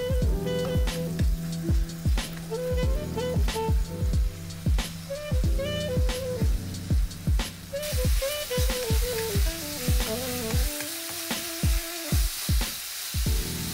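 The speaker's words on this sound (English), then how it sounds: "I'm just going to start stir frying it and making sure everything comes together" Chicken sizzles loudly as it is stir-fried in a wok, with rapid rhythmic scraping and tossing strokes over a continuous frying hiss, close up, with no talking.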